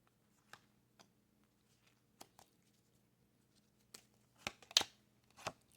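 Tarot cards are cut and shuffled in a quiet room, with faint scattered taps and soft card flicks that cluster into a few sharper riffles near the end.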